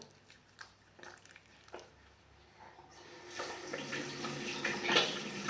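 Tap water runs in a sink during handwashing with soap, starting faint and swelling into a steady, close rush of flowing and splashing water over the last half.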